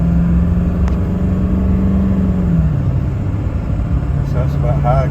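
A Ford F350 4x4 crew cab turbo diesel truck with a veterinarian box pulls steadily under acceleration, its engine drone loud and continuous from inside the cab, shifting pitch partway through.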